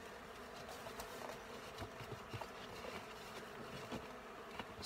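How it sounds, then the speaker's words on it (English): Honey bees fly around an open hive, a faint, steady buzzing drone with no talking. "So we can see the bees all coming back there."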